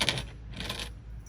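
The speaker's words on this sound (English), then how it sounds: "oops, I need the keys." Car keys being picked up for a 1973 Chevrolet Nova SS tribute with a 427 V8: quiet metallic jingling and clinking in short bursts, close and soft, with no talking.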